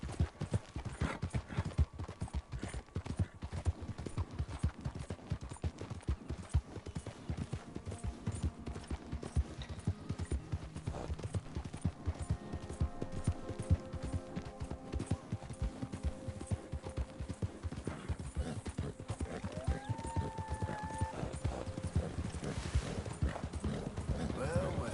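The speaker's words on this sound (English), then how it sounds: "Ain't you a good horse?" Horse hooves clip-clopping in Red Dead Redemption 2, a steady close rhythmic trot of hoofbeats under occasional talking, with a brief whinny near the end.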